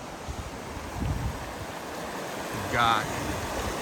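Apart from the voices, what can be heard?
flowing water of Panther Creek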